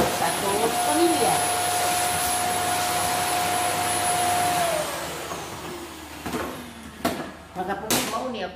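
A household vacuum cleaner runs steadily with a sustained whine while a house is vacuumed, then the drone drops away and scattered knocks and handling sounds follow.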